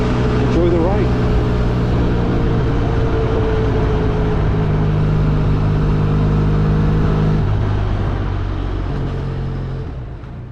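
A Benelli Leoncino 500 motorcycle engine drones steadily while being ridden, a loud continuous low rumble with faint wind noise that eases off slightly toward the end.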